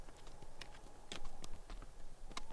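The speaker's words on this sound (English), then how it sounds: "save the horse hooves pounding the King's Road" Horse hooves clip-clop on a road in a quick irregular rhythm, faint and somewhat distant, with a few sharper strikes standing out.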